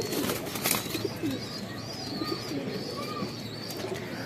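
Pigeons kept in a home loft coo softly in low, repeated phrases. A few sharper chirps and rustles come through, against a steady background hiss, with no talking.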